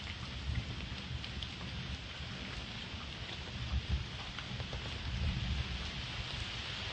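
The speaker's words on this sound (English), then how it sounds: "this big freaking storm" Heavy rain from a big storm pours down in a steady, dense hiss, loud and close, with a few slightly stronger gusts of drumming but no distinct thunderclap standing out and no voices.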